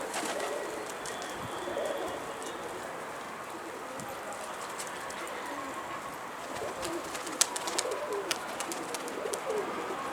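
Soft pigeon coos sound through a steady hiss of outdoor ambience, with faint flutters and light tapping toward the end.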